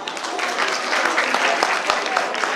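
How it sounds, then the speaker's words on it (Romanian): Festival crowd gives sustained, dense applause for a traditional folk group, a loud continuous wash of clapping throughout. "încă o dată aplauze"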